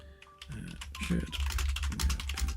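Rapid typing on a computer keyboard clatters in quick irregular bursts of keystrokes, close and fairly loud, continuing steadily for a couple of seconds.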